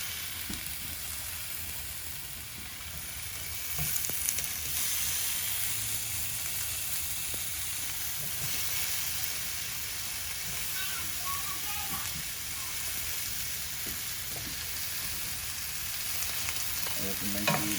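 Tomatoes fry in a pan for Mexican meatball soup, giving a steady close sizzle and hiss that runs throughout, with occasional stirring clatter and light talk in the background.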